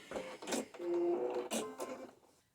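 Sewing machine running a short back stitch on knit fabric while attaching a collar, a close whirring mechanical burst with a brief steady hum in the middle, then trailing off.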